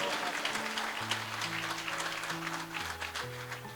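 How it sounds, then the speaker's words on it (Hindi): A church congregation claps in praise during a wedding service, a steady wash of hand claps filling the space while a sustained organ or keyboard chord progression plays underneath. "I want you to clap your hands and give some praise."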